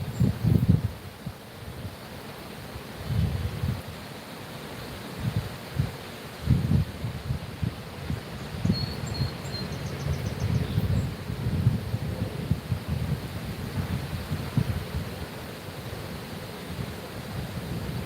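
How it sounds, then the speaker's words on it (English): Wind blows across an outdoor fishing spot, buffeting the microphone in gusty low rumbles with a steady rushing hiss underneath, continuous throughout with no talking. "Yeah, the wind did have to start the day I come here."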